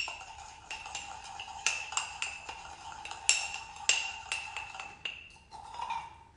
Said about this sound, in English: you're going to give that a mix until the egg is fully combined with the sugar and the butter